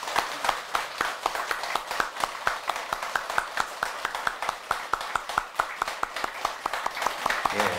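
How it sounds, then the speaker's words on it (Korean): An audience at a Buddhist dharma talk in a Korean meditation hall claps in steady, unison rhythm, many sharp claps evenly spaced for several seconds, fairly close and continuous. "박수로 다시 회양해 드리겠습니다."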